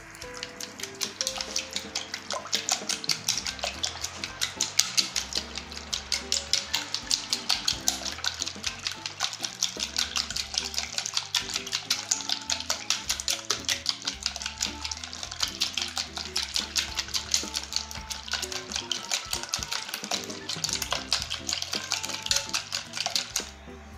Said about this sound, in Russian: Яйца со сметаной взбились вот в такую вот массу.